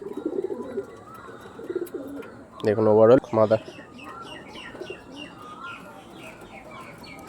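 Tournament-quality Andhra pigeons coo nearby in a brief pair of throaty, rolling bursts midway, while someone talks before and after them over faint background chirps.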